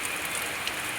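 Heavy rain pouring steadily onto a house roof, a dense continuous hiss of drops with no pauses, loud and close, with no voices.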